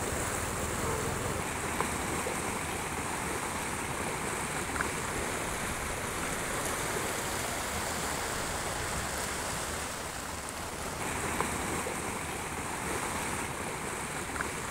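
Floodwater of the Benne stream in Gadag pouring and overflowing after heavy rain, a steady broadband rush and roar of churning water with wind buffeting the microphone, constant throughout with no pauses.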